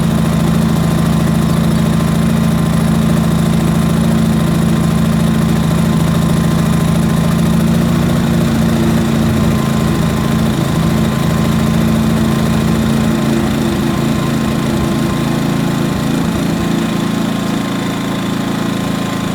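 A GTM R2000IS 2 kW inverter generator running steadily, its small engine giving a loud, close, continuous drone with a slight shift in pitch and texture partway through as it settles, heard alone without talk.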